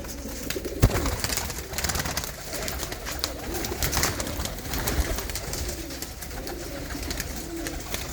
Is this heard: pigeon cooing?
yes